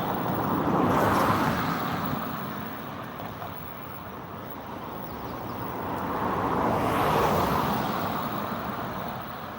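Car traffic swells past twice, a broad rushing roadway noise rising near the start and again toward the end, fading to a steady distant hum between the passes.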